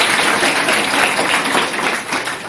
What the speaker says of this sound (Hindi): यहाँ ताली बजा चाहिए लड़की की